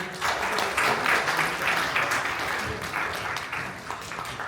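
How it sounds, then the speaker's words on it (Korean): Audience applause at a forum on Arctic route cruises, a steady wash of many hands clapping indoors, fairly loud and sustained, slowly thinning toward the end. "박수 부탁드립니다."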